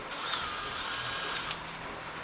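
A power drill whirs steadily at close range, a continuous grinding whine with brief sharper spikes as the bit bites into a stainless steel thermostat.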